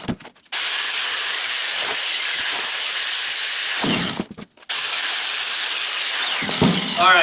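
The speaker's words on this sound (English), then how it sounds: "I will hit this with my grinder with the cup brush on" An angle grinder fitted with a wire cup brush scours a cast iron end cap during a rusty vintage Craftsman jointer restoration, giving two long, loud, steady whining bursts with a short break between them.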